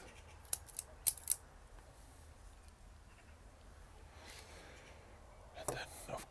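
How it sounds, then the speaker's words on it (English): A cigar tip is snipped with a cutter, close and crisp: a few sharp clipping snaps early on, then quiet room tone before soft handling rustles near the end, in a hushed setting. "I'll be smoking this cigar. First, I'm gonna cut it."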